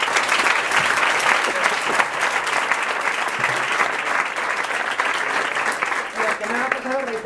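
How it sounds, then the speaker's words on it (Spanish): An audience at a science talk on hypnosis gives Antonio a thick, continuous round of applause that runs throughout, with a voice surfacing faintly near the end. "un aplauso para Antonio"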